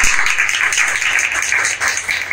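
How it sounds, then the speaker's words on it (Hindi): An audience gives a brief round of applause for an additional DCP, dense, fairly close clapping that holds steady for the whole moment. "एक बार इनके लिए ताली बजाएं।"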